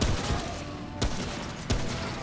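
Gunshots in the co-op shooter Remnant: From The Ashes, with two sharp, loud reports about a second apart over a busy background of game noise and low rumble.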